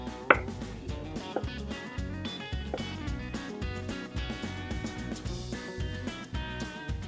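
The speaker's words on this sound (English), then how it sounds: "We're just going to cube this butter." A knife cubes butter on a cutting board with a series of soft, irregular taps and chops, faint beneath louder background music, with one sharper knock near the start.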